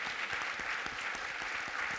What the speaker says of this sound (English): just want to give a huge round of applause to our members and our mentors